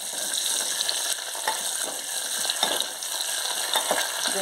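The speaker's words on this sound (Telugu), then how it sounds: "పోపు దినుసులు వేసుకుంటున్నాను." Tempering spices fry in hot oil in a pan, giving a steady bright sizzle with small crackles and occasional stirring scrapes, with no voices.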